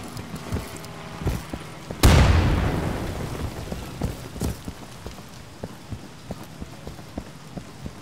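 A grenade goes off in the Socom Insurgency mod with one sudden loud boom that decays into a long rumbling, crackling tail, followed by scattered small clicks and debris-like ticks.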